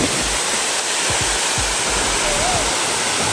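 Coban Rondo waterfall in Pujon, Malang, roars as a steady, loud broadband wash of falling and splashing water close by, continuous throughout with no voices.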